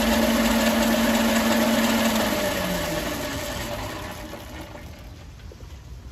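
The electric motor of a converted Fiskars reel mower runs at 50% speed with a steady whirring hum and a tonal whine that gradually drops in pitch and fades a little toward the end.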